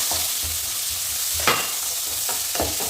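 Chopped onions sizzling in a pan for prawn curry, a steady close frying hiss with rhythmic stirring scrapes every half second or so and no speech.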